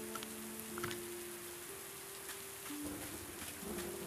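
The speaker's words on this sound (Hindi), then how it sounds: "बारिश हो रही है" Steady rain falls throughout the island survival game Lost in Blue, a dense even hiss with a few brighter drop sounds and some steady tonal hum beneath.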